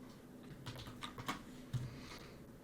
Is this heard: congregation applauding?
no